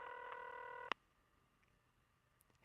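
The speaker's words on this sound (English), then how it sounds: "Tim goes back to Hal's house and calls his cell phone" Dual-tone keypad beeps of a telephone dialing a cell phone, a steady run of tones followed by a sharp click and then faint line hiss, heard alone and fairly quiet.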